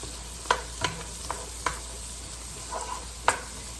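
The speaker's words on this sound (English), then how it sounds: "I'm just going to mix this all together here." A spoon stirs food together in a pot of a budget meal, giving a handful of sharp scrapes and clicks against the pot over a soft, steady cooking hiss.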